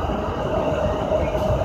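Yokosuka Line E217 series train at a station, a steady loud rolling rumble with a faint high whine running throughout, no voices over it.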